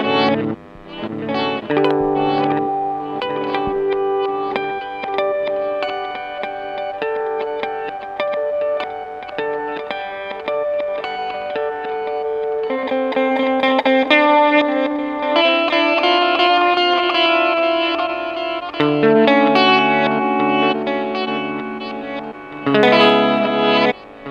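Electric guitar notes and chords ringing out through a digital reverb pedal setting, lush and spacious, with long washy tails blending the phrases together; continuous and fairly loud.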